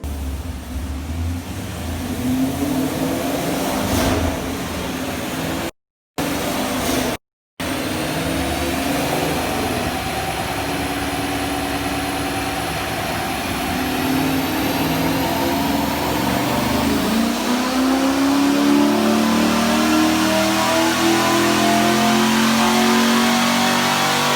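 A car fitted with a JLT intake runs on a dyno through a long, loud pull. The engine note climbs steadily as revs rise, broken by two brief dropouts, and no one speaks.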